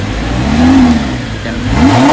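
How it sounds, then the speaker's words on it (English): Audi R8 LMX with a naturally aspirated 5.2-liter V10 revs loudly and close by, two sharp rising blips of engine note with a steady mechanical roar between them and no talking. "Amazing revs coming in."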